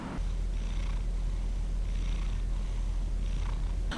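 A cat purrs steadily up close, a soft continuous rumble with gentle rhythmic breaths, no other sounds.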